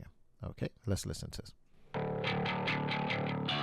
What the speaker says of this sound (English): I am adding a little bit of distortion and saturation here.